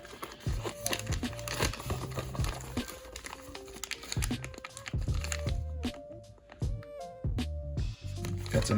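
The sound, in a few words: plastic bag of FPV motors crinkling as handled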